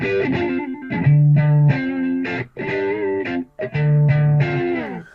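Guitar tone from a Vox amp model on a Pocket Master effects unit: a series of sustained, slightly distorted notes and chords with furry edges, played alone and close.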